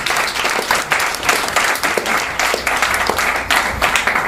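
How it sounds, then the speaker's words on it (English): Wedding guests applaud after a speech at a reception, a steady wash of close, dense clapping with small swells that carries on unbroken with no talk over it. "So once again, I just want to applaud Stephen for that"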